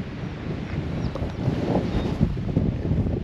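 Steady wind blows across a coastal spit in Alaska, a continuous broadband rush with low rumbling buffeting against the microphone, fairly loud and unbroken, with no talking.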